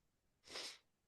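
A single close sneeze, a sharp burst of breath lasting about half a second, from a man sitting at a microphone.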